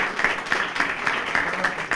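An audience at a Chilean libertarian party seminar applauds a guest: a steady rhythmic clapping pattern at moderate loudness, continuous across the moment with no talk over it.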